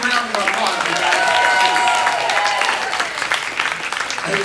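A room of attendees at an office sales meeting applauds with a dense, steady patter of clapping, while talk carries on over it.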